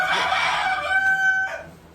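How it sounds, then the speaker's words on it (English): A farmyard rooster crows once, a long, loud, close cock-a-doodle-doo lasting about a second and a half before fading into quiet outdoor air. "Oh, you hear my roosters."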